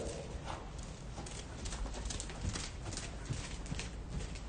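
A horse's hooves clip-clop steadily at a working trot in an outdoor riding arena, a faint, regular rhythm under broad wind and background noise, with no clear talk.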